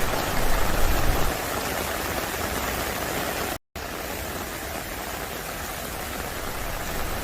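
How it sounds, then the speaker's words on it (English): Heavy rain and high winds during a strong storm in Hawaii make a dense, continuous roaring wash of noise, steady throughout apart from one brief cut partway through. "A strong storm packing high winds and extremely heavy rain flooded roads and knocked out power"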